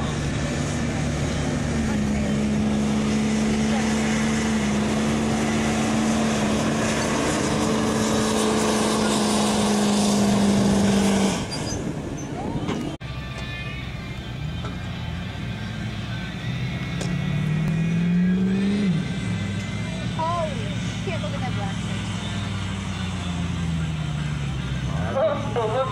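Double turbo diesel truck roaring at a truck pull, loud sustained engine drone with a whining turbo tone that drops off sharply partway through, then rises again.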